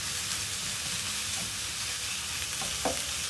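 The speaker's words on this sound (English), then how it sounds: "Then I'm going to place it in a single layer so that it can brown a little bit." Thinly sliced beef frying in a single layer in a hot pan for beef noodles, a loud continuous sizzle with a couple of brief scrapes near the end.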